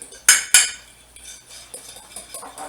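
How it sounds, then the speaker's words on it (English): A metal fork clinks sharply against a bowl while mixing ingredients, two loud strikes followed by softer, irregular scraping taps. "mix this up with a fork"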